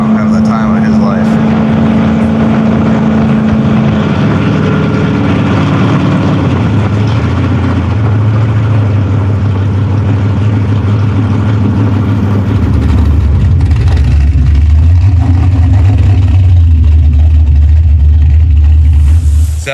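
A modified jet boat's engine drones loud and steady on the water, its pitch climbing and shifting as it speeds up, with people talking over the roar.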